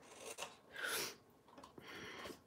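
Scissors trimming the tabs of a cardboard cheese cracker box: a few short rasping cuts, close and fairly quiet, with a longer scraping snip in the middle and no talking.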